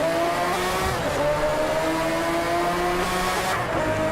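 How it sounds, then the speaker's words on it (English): A Lamborghini in the racing game Driveclub spins its wheels, engine droning and revving under a steady tire whine, with a constant mass of car noise throughout. "Wheel spin already, mate."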